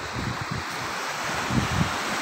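Rough sea waves wash steadily onto an open, unprotected beach, a continuous close roar of surf mixed with wind noise and occasional low thumps, with no voices.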